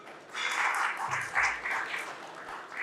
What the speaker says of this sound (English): if we could have a round of applause for the panelists